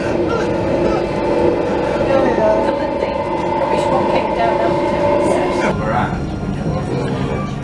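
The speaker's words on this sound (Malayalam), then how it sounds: "അപ്പോൾ എന്തായാലും നമ്മുടെ ട്രാമ്പ് യാത്ര തുടങ്ങിയിട്ടുണ്ട്." Tram riding through Nottingham city, a steady interior rumble and rail hum with a shift in tone near the end, while someone talks over it throughout.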